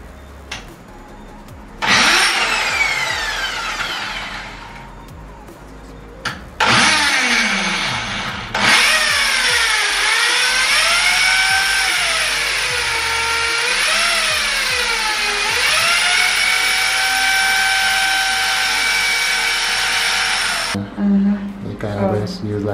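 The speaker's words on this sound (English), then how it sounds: "my first time using a drill, I'm actually kind of nervous" A power drill drilling into a bathroom wall whirs in several long bursts, its pitch rising and dipping as it bites, with short pauses between runs, loud and close.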